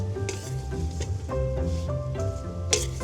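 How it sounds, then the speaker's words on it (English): Cauliflower and shallots being stirred and sautéed in a pan, a steady sizzle broken by clinking utensil scrapes and stirring knocks, close and fairly quiet. "going to add in the cauliflower and the shallots. Give it a nice little stir."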